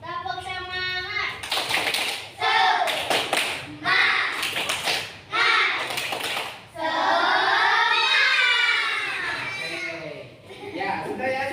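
A group of children chants and claps in a quick rhythmic pattern, a classroom "tepuk semangat" cheer, sharp bursts of clapping alternating with shouted voices, loud and close.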